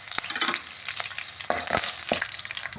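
Mustard seeds, fenugreek, dried chillies and curry leaves sizzle in hot oil while tempering for a kuzhambu, a steady close frying crackle broken by a few sharp stirring scrapes.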